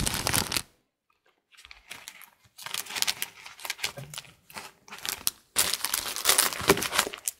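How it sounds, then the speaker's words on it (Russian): Crinkly paper surprise packets being opened, with bursts of rustling and tearing coming in irregular clusters after a short quiet gap, close and fairly loud. "Эти все пакетики мы будем распаковывать"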